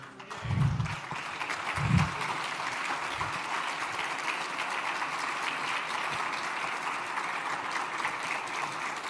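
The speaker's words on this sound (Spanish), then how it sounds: "quiero pedir un aplauso para Tamara Sujú" Applause for Tamara Sujú at an international forum against Nicolás Maduro, a steady crowd clapping that holds for about nine seconds, with a couple of low thumps near the start.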